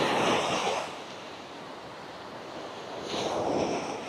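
Sea waves breaking near the shore on the Malvan coast, with two loud washes of surf at the start and end and a softer hiss between them, plus some wind.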